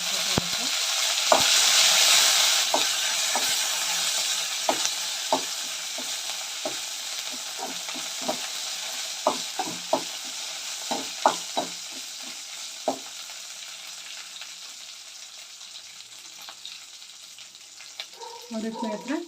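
Curry leaves tempering in hot oil for a green gram masala gravy, a steady sizzle with repeated sharp crackles and pops through most of the stretch, fading toward the end, with no talking.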